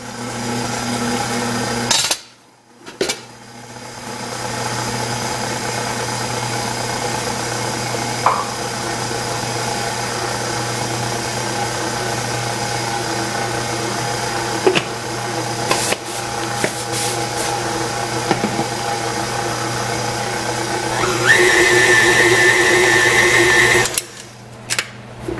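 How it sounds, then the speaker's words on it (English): A stand mixer with a paddle attachment beats thick cake batter, its motor running in a loud steady whir for the whole stretch, briefly dipping early and cutting off near the end. "I'm going to put my paddle back on and get it mixed in."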